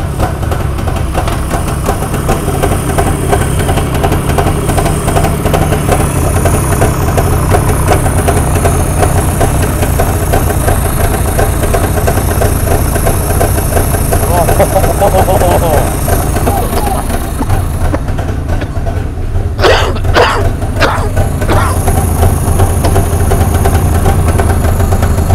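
An old two-stroke engine idles steadily after being started, a loud buzzing, knocking drone that runs the whole time with slight changes in pitch, while voices talk over it.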